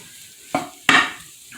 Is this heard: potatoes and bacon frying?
yes